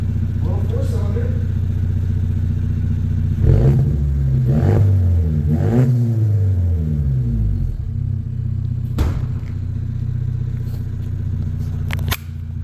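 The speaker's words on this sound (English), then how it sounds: "give you guys a couple more revs from over here to give you an idea, but it sounds pretty good for a little 4-cylinder" A Ford Maverick's small 4-cylinder engine with a custom exhaust idles with a steady rumble, then is revved three times in quick succession, rising and falling, before settling back to idle with a few sharp clicks.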